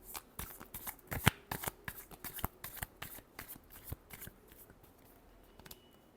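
Tarot cards are shuffled by hand in a series of close, crisp riffling slaps, irregular in rhythm and loudest near the start before tapering off.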